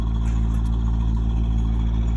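A 1991 Chevrolet Caprice engine idles with steady low exhaust rumble and harmonic drone, continuous and close for a couple of seconds.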